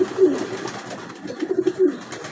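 Pigeons coo in low, throaty bursts, a few soft repeated calls close by with quiet pauses between.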